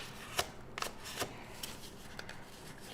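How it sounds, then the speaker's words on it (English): A bone folder works paper fibers in a craft session, giving soft, close rustling strokes and short papery brushing taps in an uneven rhythm. "I'm just going to work them with the bone folder"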